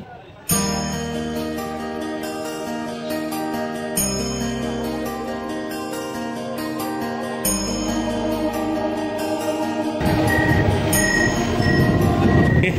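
Sealdah–Ranaghat AC local train at Kalyani station, with a sustained bright tonal horn or chime layered over rolling rumble that grows louder and rougher toward the end, close and loud.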